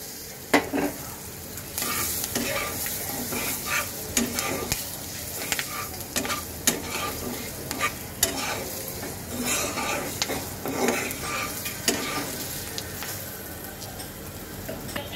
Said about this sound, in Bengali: এবার এটাকে একটু তেলের মধ্যে ভেজে নেব।